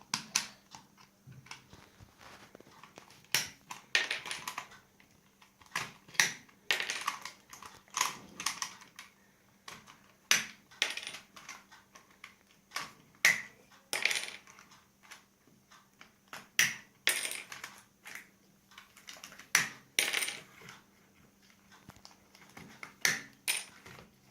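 Plastic packaging of L.O.L. Surprise dolls being opened: a long run of close, crisp crackles, tears and snapping clicks in irregular bursts with brief quiet gaps.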